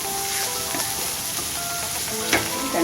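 Crushed ginger and garlic frying in a pan for prawn biryani, a steady close sizzle with occasional stirring scrapes and pops throughout.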